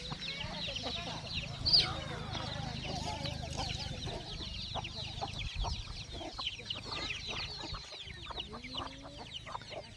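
Free-range village chickens and chicks clucking and chirping continuously nearby on a farm, with a faint voice in the background.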